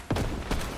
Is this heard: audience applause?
no